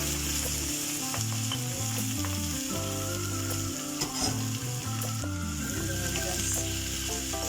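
Pan-fried chicken pieces for chicken afritada sizzle loudly as they go back into the pan, with steady frying and stirring throughout and no talking.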